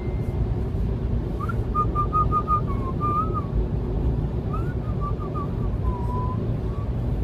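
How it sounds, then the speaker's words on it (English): Someone inside a car whistles a short, wavering tune in two brief phrases, thin and slightly off-pitch, over a constant low rumble of the moving car. "This is your whistling's getting better. I'm getting a tune."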